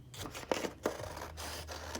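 Scissors snip through a paper rosette template in a few sharp cuts with soft scraping between them, close and fairly quiet.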